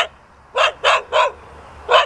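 A female dog with mange barks in short bursts, three quick close barks in a row, then a pause and a single louder bark, with no talking between them.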